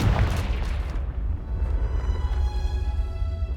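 A Confringo blasting spell goes off in Hogwarts Legacy as a deep, rumbling explosion, with the boom fading into a sustained low roar and faint ringing tail.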